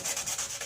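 Cloudy car headlight being sanded with 240 grit sandpaper, a brief series of faint, quick back-and-forth rubbing strokes.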